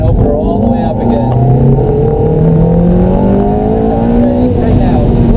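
A Ferrari at full throttle on the Candlestick Park track: a loud, close engine note climbing steadily in pitch as it accelerates, with a voice faintly underneath.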